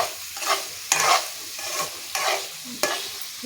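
A spoon stirs masala paste in a frying pan, about five scraping strokes in a loose rhythm, each over a soft sizzle, close and clear with no talking.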